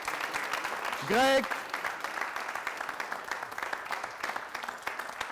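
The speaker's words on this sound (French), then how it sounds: "Merci de faire beaucoup d'applaudissements pour Greg." Applause from a television studio audience greets a guest on a Burkina Faso variety show, with steady clapping throughout and a brief voice calling a name near the start.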